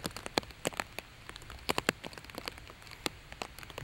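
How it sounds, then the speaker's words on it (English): Steady rain falls on an open golf course, raindrops pattering and ticking sharply on surfaces in a dense, irregular patter, close and fairly loud with no voices. "Rain falling."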